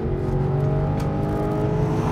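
An older Porsche Cayenne with a naturally aspirated V8 engine revs up, a sustained, loud, close engine note with smoothly climbing tones and no speech.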